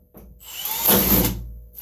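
A power drill bores a hole through plywood in a single short, close whir that rises and then fades.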